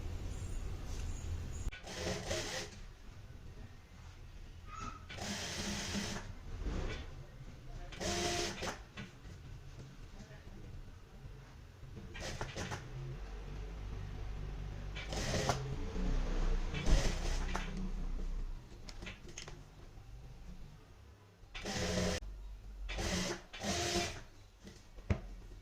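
A sewing machine stitches a pintuck neck patch onto a garment, running in short repeated bursts with pauses of handling between them, fairly close and moderately loud.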